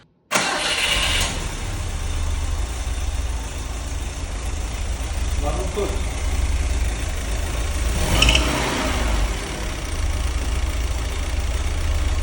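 A car engine with newly fitted exhausts starts abruptly and settles into a steady, low idle that runs on evenly, with a brief rev partway through.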